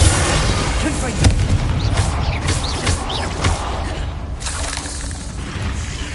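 Bombarda blasting spells in Hogwarts Legacy gameplay, a dense run of booming explosive impacts and whooshes layered over constant game noise, with a few sharper bursts standing out around the middle.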